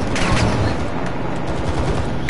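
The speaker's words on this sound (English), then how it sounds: "Kids, why are you shooting at me?" Dense, loud gunfire from the Modern Warfare 2 campaign, with rapid overlapping shots and bursts rattling continuously and close by, with no pauses.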